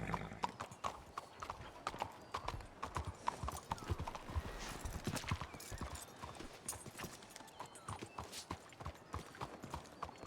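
Steady clip-clop of horse hooves trotting close by in a video game, a continuous rhythmic patter with a brief whinny-like sound mixed in.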